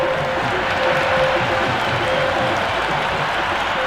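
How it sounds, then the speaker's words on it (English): A large stadium crowd in the video game Cricket 26, India vs Pakistan T20, roars and cheers continuously, a dense, loud, unbroken wall of noise with no letup. "Will you listen to that crowd? They are loving this."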